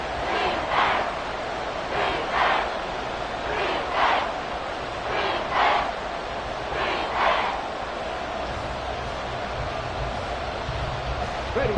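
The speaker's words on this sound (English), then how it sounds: "This crowd doing all they can." A football stadium crowd at a Dragons game chants in a loud, rhythmic two-beat pattern, repeating roughly every second and a half over a steady background roar.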